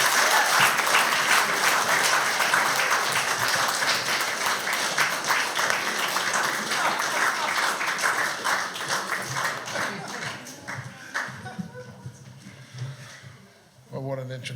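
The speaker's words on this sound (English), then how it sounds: "Give a big round of applause." A lecture audience at the NUJ's Claudia Jones Memorial Lecture gives a big round of applause, loud and sustained clapping that gradually thins out, while a voice talks over the final seconds.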